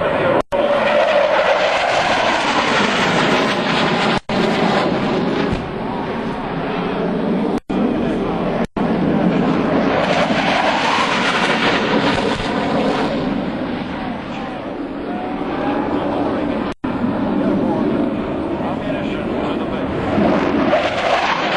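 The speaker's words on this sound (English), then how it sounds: "the first section of attack aircraft is the multi-role FA-18 Hornet that is inbound for the pump right now" An F/A-18 Hornet makes an attack pass at an air show, its jet roar loud and broad, sweeping continuously through the whole stretch with shifting pitch as it passes.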